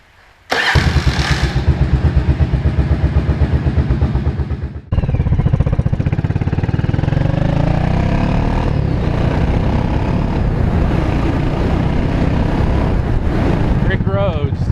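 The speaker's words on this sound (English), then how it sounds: "We'll start it back up again." A 1983 Yamaha Virago 750 Midnight Special motorcycle cranks and fires, runs with a loud close throbbing idle, cuts out briefly, then restarts and keeps rumbling steadily, with some talk over it.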